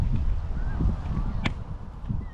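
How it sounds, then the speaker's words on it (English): Waterfowl call outdoors at a lake in Sweden, with a few brief honking, duck-like calls over wind and water noise, fairly close and without talk. "Ah, this duck"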